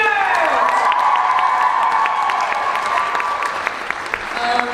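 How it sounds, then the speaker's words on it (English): Loud, sustained applause from an audience honoring graduating seniors at a wushu event, with cheers and whoops over the clapping throughout. "let's give one more big round of applause to our seniors!"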